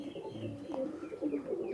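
Soft, low coos of high-flying Indian Ablook pigeons drift in and out over a steady background hum, with a few faint bird chirps mixed in; no one speaks.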